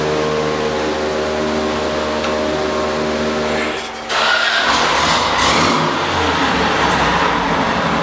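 VW Beetle engine on a dyno with the generator and fan belt removed, a steady mechanical hum that cuts out briefly and then returns in a loud, rough, rising roar of a power pull.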